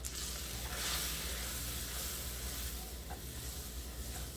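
Flour cooking down in a pan for a mac and cheese sauce gives a steady, close sizzle with soft stirring throughout, no voices over it.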